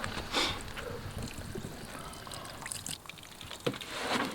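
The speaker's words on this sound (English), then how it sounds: "let's pour this out on this block here and see what we got" Water poured from a jug onto a block outdoors during a muzzleloader test, a steady splashing, trickling wash with a few louder gushes, close and continuous with no talk.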